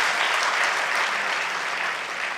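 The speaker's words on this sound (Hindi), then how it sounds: "हाँ ताली बजाना तो बजा लीजिए" An audience claps at a Hindi motivational talk, a brief, even wash of many hands clapping together throughout.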